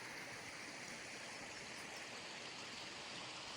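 A creek running at high water beside the historic Magnolia mine portal gives a steady, dense rushing roar that holds evenly throughout with no voices.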